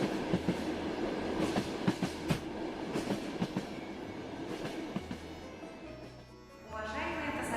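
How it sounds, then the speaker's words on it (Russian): An express train pulls into a station platform with a steady rumbling roll and rhythmic clickety-clack of wheels over rail joints, heard moderately from inside with a low drone near the end. "на 4-й путь от платформы прибывает скорый поезд"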